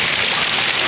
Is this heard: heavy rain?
yes